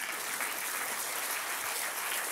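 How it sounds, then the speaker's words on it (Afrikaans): Hand clapping from a church congregation at a culture, sport and sausage production evening, a steady, close, unbroken burst of applause for the cooks. "Kom ons gee vir hulle almal 'n hande klap."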